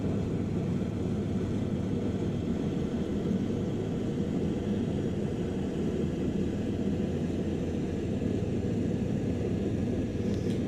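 A Wellington bomber coming in to land in a flight game, its engines a low, constant droning rumble at steady volume with no voices over it.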